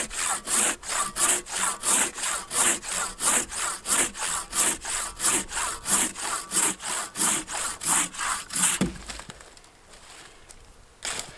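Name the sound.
Silky Temagari pruning saw cutting hard green wood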